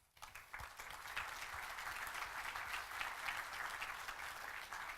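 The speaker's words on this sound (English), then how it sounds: "just a round of applause for them," Audience at a SymfonyCon Berlin 2016 conference talk applauds the project's contributors, a steady wash of many hands clapping that holds for several seconds at moderate, slightly distant loudness.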